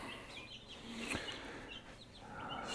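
Chickens clucking softly while being moved into a newly built grow-out enclosure, with a steady background and a brief louder burst near the middle.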